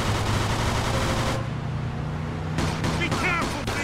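Gunfire in Mafia II: rapid bursts of shots over loud game action, a dense rattling stretch followed by a lull, then more scattered shots, with indistinct voices mixed in.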